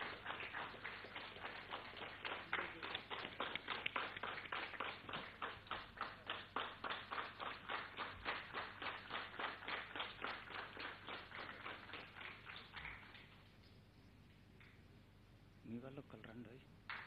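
An audience claps in a steady, rhythmic unison beat to honour the chief guest at a felicitation event with the Home Minister. The clapping runs for about thirteen seconds, fairly close and even, then fades out as a brief voice follows.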